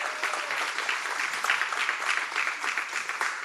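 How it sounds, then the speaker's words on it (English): Audience applause at a community meeting on Thomas Fire updates, a steady wash of many hands clapping for the full stretch, fairly even in level with no talk over it. "If we could offer her a round of applause for all of her hard work."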